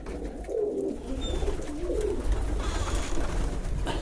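Pigeons cooing at a busy pigeon market in Zgierz, with soft, repeated low coos close by over a steady background hum and bustle.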